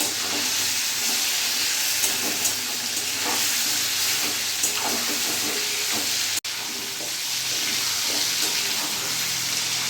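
Chicken fries in a kadai for spicy kadai chicken, giving a steady, loud hissing sizzle with occasional stirring scrapes, close and continuous for about ten seconds with one brief dropout.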